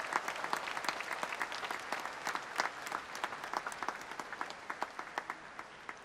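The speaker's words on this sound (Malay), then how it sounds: "marilah kita beri tepukan yang gemuruh pada kaum wanita di seluruh negara" A large crowd at a Malaysian national transformation programme report event in 2016 gives a sustained round of applause. It sounds somewhat distant, with many overlapping claps that gradually thin to scattered, sharper individual claps.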